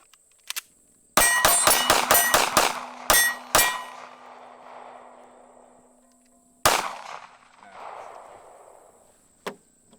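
Pistol fired at 7 yards after drawing from a holster: a quick string of sharp shots with metallic ringing echoes, a short pause, then a single later shot, loud and close outdoors.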